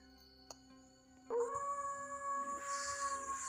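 A grey wolf exhibit in a Roblox natural history museum game plays a single long, steady howl that rises in after a brief quiet moment and holds clear and fairly loud to the end.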